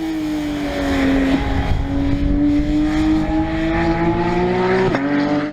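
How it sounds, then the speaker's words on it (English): A 2019 Porsche GT3 RS engine pulls hard on the Nürburgring, a loud, sustained near-field howl whose pitch climbs steadily for about five seconds, with a brief dip at a shift near the end. "Listen to that engine."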